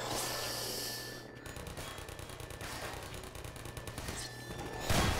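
Automated turret in Half-Life 2 firing a sustained rapid burst of gunfire, rattling steadily for several seconds with a brief pause early on, loud and close.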